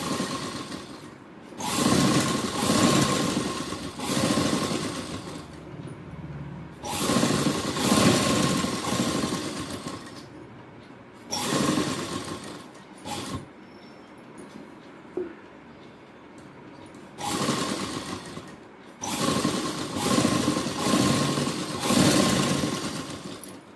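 A sewing machine stitches a cloth handkerchief in repeated bursts of whirring, each lasting a few seconds with short quiet pauses between them, heard fairly quietly at close range.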